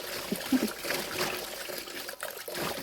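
Field crabs are rinsed in a basin of water for pickled crab, with sloshing and trickling water and light splashing close by, steady and moderately loud.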